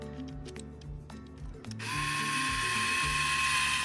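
A power drill drives screws into the flange of a 7-way trailer plug, starting with short clicks and handling noises, then a loud steady whine that holds close up for the last two seconds.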